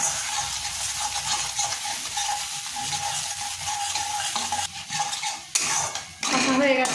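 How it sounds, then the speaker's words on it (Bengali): Egg masala stirred and fried in a pan for a Bengali egg bhuna, with steady sizzling and the scrape and clink of a spoon against metal, growing louder and more clattery toward the end. "30 সেকেন্ড টাইম নিয়ে একটু কষে নেব"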